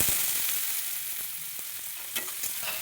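Chopped onions fry in a pan with bay leaf and a dried chili, giving a close, steady sizzle with occasional sharp clicks of stirring.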